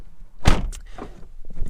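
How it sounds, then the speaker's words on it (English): A MINI JCW F56 car door shuts once with a solid, close thunk on a windy day, followed by faint rustling and light handling noises. "Shut the door because it's a little bit windy."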